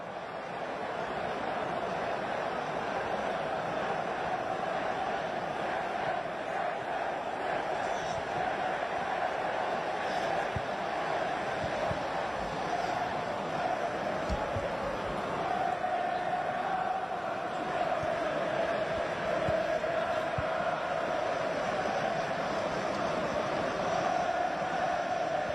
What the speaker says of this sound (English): A great cheer from the City of Manchester Stadium as VAR completed its check and the